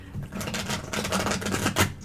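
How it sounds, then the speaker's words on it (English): Tarot cards being shuffled by hand, a dense run of quick papery riffles and flicks at close range with faint background voices. "You're gonna let me shuffle those cards then, too?"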